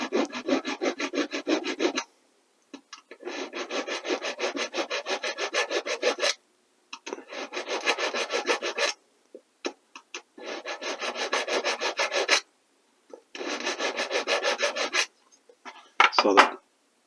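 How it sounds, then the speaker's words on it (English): A hand file scrubs back and forth along the head of a model railroad rail in steady, rapid rasping strokes, grouped into several bursts of a few seconds each with short pauses between, close and clear. "So I'm going to have the file just kind of riding on the flange to keep it centered on there."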